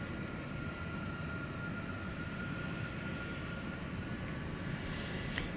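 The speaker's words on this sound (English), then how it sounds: "Turkish Flight 192 is getting ready to take off" A Turkish Airlines Boeing 787-9 Dreamliner, Flight 192 at DFW Airport, spooling up for takeoff at night, heard as a steady distant jet roar with a faint whine, no voices.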